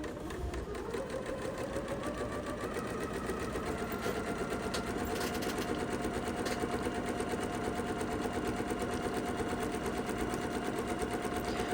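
Close, steady whir of a sewing machine running continuously while stitching a quarter-inch seam on a half-square-triangle quilt block, an even mechanical hum with no voices.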